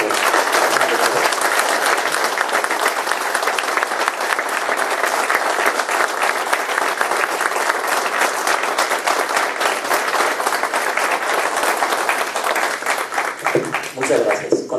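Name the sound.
audience applause for the doctor at an academy tribute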